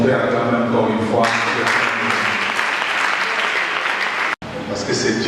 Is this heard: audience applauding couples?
yes